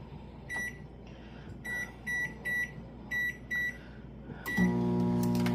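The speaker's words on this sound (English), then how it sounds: "when you're cooking them in the microwave, you want to rotate them halfway through" A microwave oven baking potatoes wrapped in paper towels gives a run of short electronic beeps from its keypad, then starts up with a steady low hum.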